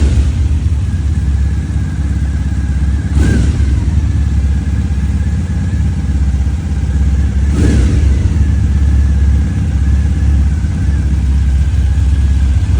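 Triumph motorcycle engine running steadily close by, with two short sharp throttle blips standing out from the continuous idle rumble.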